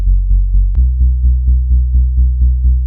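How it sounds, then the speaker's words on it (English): Low stutter house synth bass pulsing in a steady eighth-note LFO wobble with distortion, each pulse slightly gritty, with one note change early on; loud and alone. "Then I added an 8th note LFO and some distortion."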